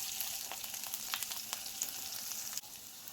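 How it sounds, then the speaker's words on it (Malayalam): Onions frying with dried chili and curry leaves in a pan, a soft, steady sizzle with light crackling pops, fairly faint and without talking. "ഇതിലുള്ളിയൊക്കെ മൂത്ത് വരുന്നുണ്ട്"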